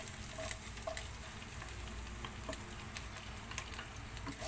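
Garlic sautés in oil in a pan for chicken afritada, giving a steady, soft sizzle with scattered small crackles and pops throughout, fairly faint and with no talking.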